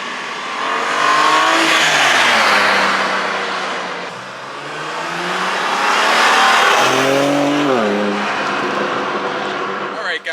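A 2021 BMW M3 accelerates hard in two loud surges, its engine note climbing and easing with each pull, close and dominant, with a faint tire squeal possible near the end.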